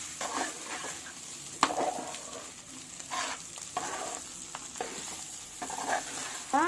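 A dish of rice and curry is stirred and mixed in a hot pan, with soft sizzling throughout and irregular scrapes and clinks of the spoon against the metal, close and alone.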